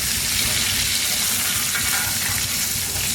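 Butter sizzles steadily around a steak in a tilted pan as it is basted, a loud, continuous frying hiss close by with no pauses.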